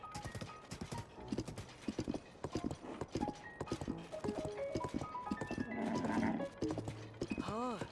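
A horse's hooves clip-clop in a steady, even rhythm while riding in the Zelda Tears of the Kingdom video game, fairly quiet under game music, with a brief whinny near the end.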